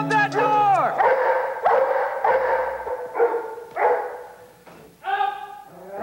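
A Belgian Malinois barks and yips near the microphone in a run of sharp, separate bursts, a few whimpering notes between them, during a scent-tracking test.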